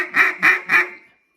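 Three sharp, evenly spaced quacks blown on a Nosedive model duck call, loud and close, each with a raspy buzzing edge, ending with a short fading tail and then silence.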